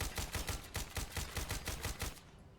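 Rapid, evenly spaced automatic gunfire from Fallout 4 forms one loud, sustained burst of about a dozen shots that cuts off near the end.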